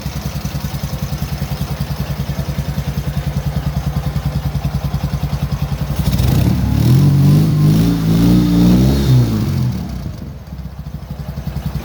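A Soviet M-72 motorcycle idles with a rapid, even exhaust pulse, then revs up hard for a few seconds before settling back to idle, loud and close.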